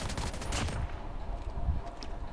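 Loud, rapid bursts of Call of Duty Mobile gunfire crackle over a rumbling background, firing in quick volleys.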